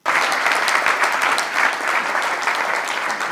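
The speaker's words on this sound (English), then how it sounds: "Please a round of applause for the distinguished gentleman." A crowd at a formal gathering claps steadily and densely for a few seconds, a full, even wash of applause that stops abruptly.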